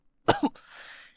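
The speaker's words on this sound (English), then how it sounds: "Matthew coughed into his elbow." A man coughs into his elbow, two close, sharp coughs followed by a short breathy trailing exhale, heard alone and fairly near.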